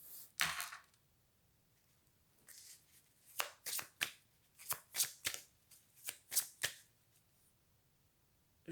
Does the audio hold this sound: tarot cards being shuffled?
yes